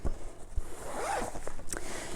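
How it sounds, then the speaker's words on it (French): A zipper on a black and gold pouch is pulled open in one close, clear rasping run, with a few small handling taps around it. "Donc, c'est une fermeture éclair. Hein, c'est zippé."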